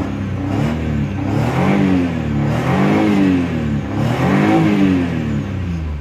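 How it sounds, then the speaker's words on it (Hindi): A Maruti Suzuki 800 with an engine missing problem revs repeatedly, its small engine rising and falling in pitch through several close, loud swells with no talk over it. "अभी गाड़ी को एक्सेलरेट कर रहा हूँ"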